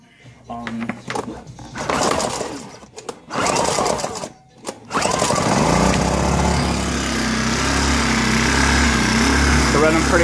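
A Honda EU1000i inverter generator with its air cleaner removed and throttle stuck wide open starts after a pull and settles into a loud, steady high-revving run, preceded by a few bursts of handling noise and talk.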